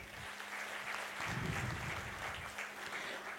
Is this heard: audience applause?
yes